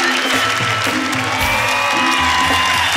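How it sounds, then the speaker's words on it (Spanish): A studio audience at a comedy show in Arequipa claps and cheers in a continuous, building wash, with occasional whoops and a host's voice speaking over the crowd. "Y que siga creciendo ese aplauso."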